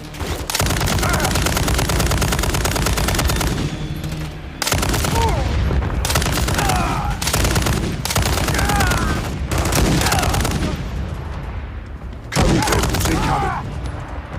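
A Call of Duty MW3 battle played on PS5 fills the scene with heavy, continuous automatic gunfire and booming shots. The loud, sustained bursts are broken by a few brief pauses, with faint voices under the fire.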